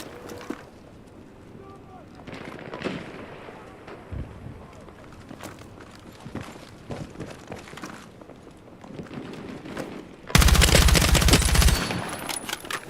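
Gunfire from older meta weapons in the video game Battlefield 6, heard as scattered shots and bursts through most of the stretch, then a very loud, dense blast of automatic fire near the end.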